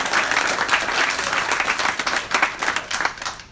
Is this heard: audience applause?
yes